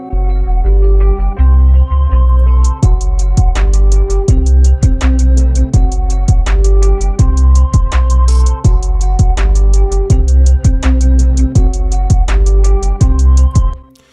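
Layered flute-like synth lead over a deep bass line and steady kick drum, forming a full electronic beat that plays loud and continuous for about fourteen seconds before cutting off.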